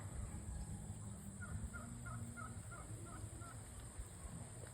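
A turkey gobbles in a short rapid series of throaty calls, somewhat distant, over steady outdoor noise and a high insect-like whine.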